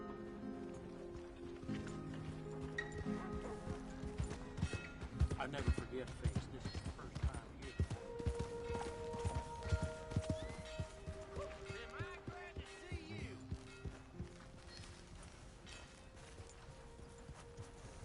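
Hooves of a horse in the Red Dead Redemption 2 game clip-clop in an uneven trotting rhythm, moderately close, under frequent character dialogue and background game music.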